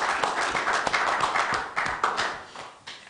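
A room of people at a county board of commissioners meeting claps for award winners, a brisk, fairly loud round of applause that starts at full strength and fades toward the end.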